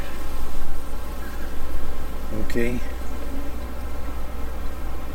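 Honeybees droning inside an opened beehive, a dense continuous buzz close at hand with a brief louder wingbeat pass, while a voice talks over it once.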